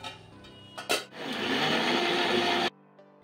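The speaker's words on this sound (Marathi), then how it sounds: "आता मिक्सरमध्ये घेऊन मी छान बारीक असं वाटून घेणार आहे।" A kitchen mixer grinder grinding soaked lentils and rice for idli batter, a loud whirring motor after a few short knocks, running steadily for over a second before it cuts off abruptly.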